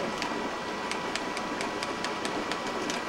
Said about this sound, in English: Look, the train's here.